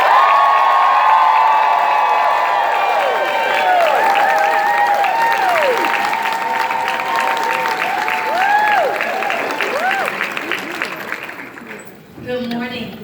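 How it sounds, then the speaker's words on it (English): Big audience applause and cheering at a Mary Kay seminar as a million-dollar sales director takes the stage; loud clapping with whoops and high excited shouts rising over it, fading before a voice begins at the end. "Please give her a huge round of applause."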